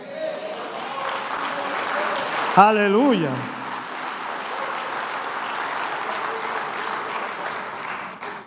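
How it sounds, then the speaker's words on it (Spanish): Sustained applause from a church congregation during a sermon, a steady wash of many hands clapping throughout, with a single voice briefly calling out over it partway through. "Eso no es para dar un aplauso al Señor."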